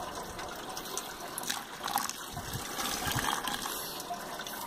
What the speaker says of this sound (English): So I'm just sparging now.